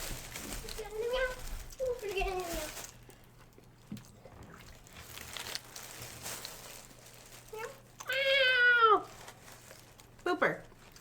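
A pet cat named Booper gives a few meows between soft human voices indoors, with a louder, drawn-out meow near the end followed by a short squeak.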